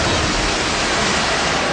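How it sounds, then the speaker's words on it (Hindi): Floodwater pours over a road in Chittorgarh district, Rajasthan, with waves surging below, making a loud, constant rushing roar that fills the whole moment without a break. "सड़क से पानी ओवरफ्लो हो रहा है, नीचे लहरें उफान पर हैं"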